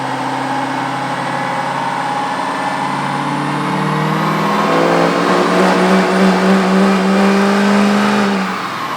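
An L5P Duramax diesel truck engine fitted with a 67mm VGT turbo revs up from a steady drone and climbs hard through the midpoint, holding a loud, rising roar before easing off at the end.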